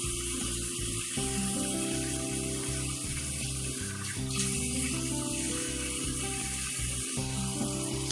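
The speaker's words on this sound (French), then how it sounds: "je vais mettre de l'eau très chaude dans mon évier" Hot water runs from a kitchen tap into a sink in a steady, close rushing stream that shifts in tone as it hits the basin, with small clicks and clunks mixed in.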